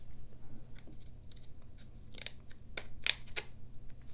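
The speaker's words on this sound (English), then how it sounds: "We have a pair of little scissors. Let's see how sharp these are." A few sharp, crisp snips from small, thin modeler's scissors, close by, quiet rustling between them, the last three cuts loudest.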